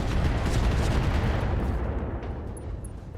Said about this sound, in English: We're going to fire the binary laser on this Drillson.